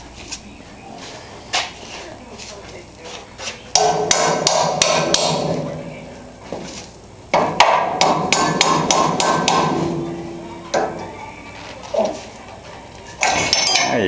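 Metal hammering on a 1942 Chevrolet truck, with several bursts of rapid ringing blows and some single strikes, close and loud in a workshop, with faint voices between the bursts.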